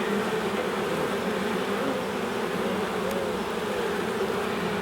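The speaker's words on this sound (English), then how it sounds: "there's enough bees in here for winter" Honeybees buzz in an opened hive, a close, dense and continuous drone with wavering pitch and steady loudness, and no voices.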